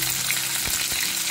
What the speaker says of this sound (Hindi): फिर डालेंगे चॉप ऑनियन